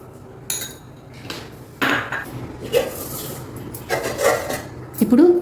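Snack ingredients are mixed in a bowl, with repeated close scraping and clattering of a spoon against the bowl in uneven bursts, fairly loud, while someone speaks over it.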